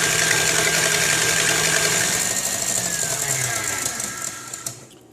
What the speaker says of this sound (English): Now it's time to beat the egg whites.